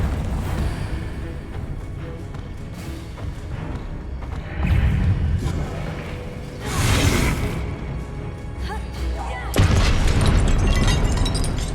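Spell blasts from Confringo and Incendio casts in the video game Hogwarts Legacy, heard as three loud booming bursts with whooshes over a busy game soundscape.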